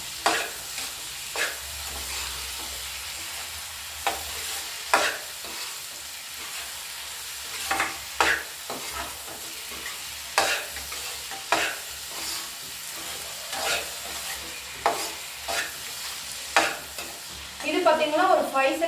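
Continuous pan sizzle of dried vanjaram fish sautéing, with repeated sharp scraping clicks from stirring every second or two, growing louder and crackly at the end.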